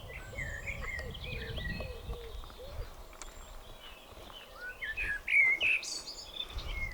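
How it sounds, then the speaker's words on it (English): Small birds sing and chirp in the open near Clearbrook Village Hall on Dartmoor, with thin high calls scattered throughout and a brighter, louder burst of song toward the end over faint outdoor background noise. "Listen, what sort of bird's that, John?"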